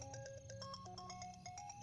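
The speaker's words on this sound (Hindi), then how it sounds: "तेरा फोन बज रहा है" A mobile phone rings with a quick, repeating electronic melody of bright tones, faint and steady in the background, with no voices over it.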